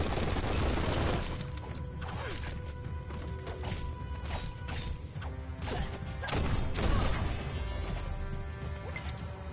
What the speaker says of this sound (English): I'm gonna use the ancient art of mag dump